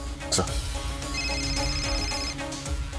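A phone rings with a bright electronic trill, sounding over a busy background with people talking nearby.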